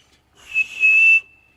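A single loud, shrill whistle held for under a second, rising sharply then cut off, imitating the piercing chirp of crickets.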